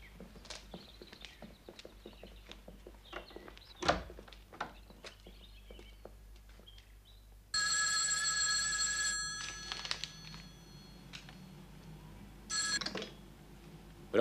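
A telephone rings in a quiet room: a loud sustained ring starts midway and cuts off, then a second shorter ring follows after a pause. Faint clicks and small movement noises come before it.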